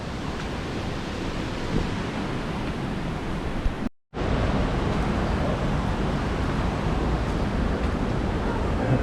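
Waterfalls in the Watkins Glen State Park gorge give a loud, steady, hissing roar of rushing water close by. The roar cuts out briefly for a moment partway through, then returns just as strong.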